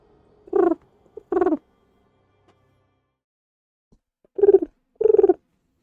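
A human voice imitating a pigeon's coo, two pairs of short, throaty warbling calls separated by a pause of silence, close and clear.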